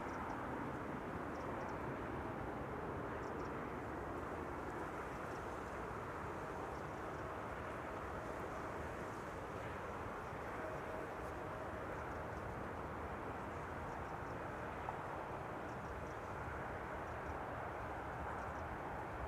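An ITA Airways airliner moving at Amsterdam Schiphol Airport gives a steady, continuous jet engine rumble that holds at a constant level throughout without any speech.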